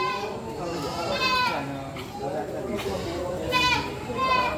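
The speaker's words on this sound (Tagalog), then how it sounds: "Dagsa talaga ang kambing sa mga ganitong oras, oh." Goats bleat repeatedly at an early-morning livestock market in Padre Garcia, several overlapping calls rising over a dense crowd murmur and a person talking nearby.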